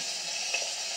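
Burgers frying in a pan in a home kitchen, a steady, close hiss of sizzling fat with a faint crackle, heard alone.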